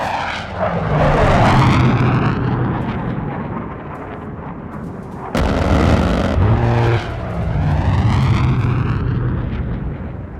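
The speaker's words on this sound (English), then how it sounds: "That's the sound of probably jet fighter autocannons." Jet fighter autocannons firing in a Soviet-era Poland video game give a loud, sustained roaring blast with sweeping, whooshing tones, briefly breaking off midway before the heavy roar resumes, with no voices.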